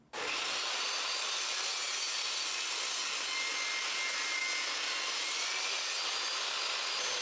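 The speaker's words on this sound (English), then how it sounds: "And I'm just using the table saw to achieve that." Table saw ripping pine boards down to about a quarter inch thick, a loud continuous whining hiss that starts abruptly and holds steady throughout, close and alone with no voices.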